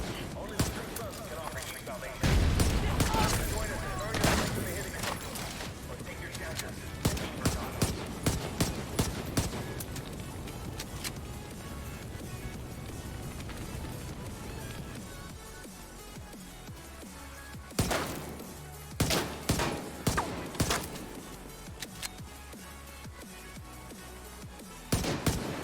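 Enemy gunfire in the shooter game The Division 2 cracks in scattered bursts and single shots, fairly distant and quiet, with a steady game soundscape underneath.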